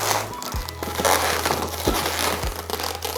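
Two latex balloons twisted together for a balloon-art leaf, giving close, loud rubbery squeaks and creaking friction with a few sharp squeals.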